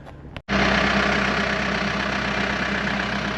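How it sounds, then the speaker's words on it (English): Backhoe engine running on a farm, a loud steady diesel drone that cuts in suddenly after a brief dip and holds close and constant. "we'll go with the backhoe"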